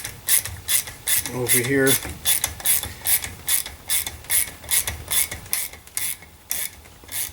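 Ratchet clicking while tightening an adjuster on a Torqueflite 727 automatic transmission valve body, a close, loud series of rapid rhythmic clicks in bursts, with a brief metallic squeak and a few quiet words spoken.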